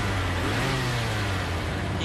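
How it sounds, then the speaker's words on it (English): A 12-cylinder car engine revs hard and close, a loud sustained growl that climbs and holds steady throughout. "Let's give him 12 cylinders of fury."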